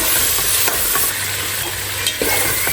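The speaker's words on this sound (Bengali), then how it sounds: "এখন আমি সব কিছু দিয়ে ভালো করে নেড়ে কষিয়ে নিব" Spices with coriander and cumin powder stirred and fried in a pan, a loud close sizzle with rhythmic spatula scrapes across the metal.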